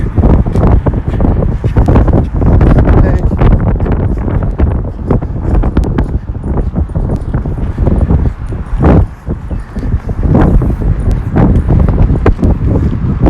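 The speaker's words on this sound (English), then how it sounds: "Can't tell how much wind is actually blowing, but there's a lot of it." Strong outdoor wind buffeting the microphone near North Little Rock, a loud, constant rumbling roar with gusty thumps throughout.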